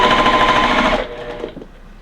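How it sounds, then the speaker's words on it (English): A sewing machine stitches Split Star quilt block pieces together in a fast, steady mechanical rattle for about a second, then stops, leaving faint handling noises. "now we're going to sew our top pieces on"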